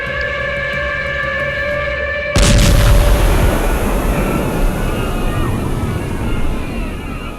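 A sudden loud crash of two trains colliding head-on cuts off a steady tonal hum, followed by a sustained roaring, rumbling wash of noise that slowly fades.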